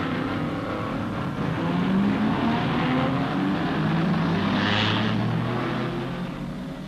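A 1964 Ferrari race car engine on its warm-up lap during the Tour de France Automobile, a steady loud mechanical drone with shifting pitch sweeps, sustained throughout and drifting slightly as the car passes.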